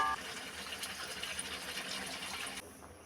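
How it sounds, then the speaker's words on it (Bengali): Water pours steadily into a pot of Bengali home-style chicken that has just been sautéed in spices, a continuous rushing gush lasting a few seconds before it cuts off near the end. "দিয়ে দেবো এবার জল।"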